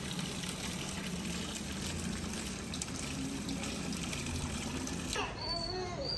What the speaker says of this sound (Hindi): बिस्मिल्लाह चावल धो लेते हैं।